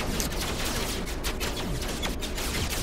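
Starship weapons firing during a No Man's Sky space battle, a rapid stream of energetic shots in short repeated bursts over loud, busy combat noise.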